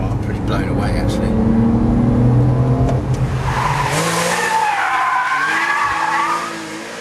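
A Porsche 911 with a PDK gearbox driven fast across country, its engine roaring loud and steady with tyre noise, then fading slightly near the end; a voice may be heard over it.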